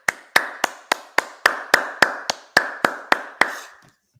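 Sharp, evenly spaced claps ring out at a Sabbath service, about a dozen single loud hits in steady rhythm with a short echo after each, ending abruptly.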